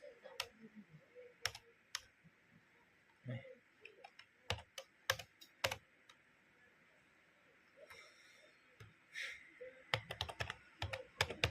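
Keys on a computer keyboard are tapped in irregular bursts of sharp clicks, close and clear, with pauses between runs while someone enters a search in a simple C++ program; no one speaks.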